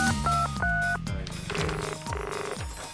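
Dialing tones from a Nokia mobile phone, a quick series of distinct beeping tone pairs of varying pitch, clear and close, followed by further short dialing signals, with no talking.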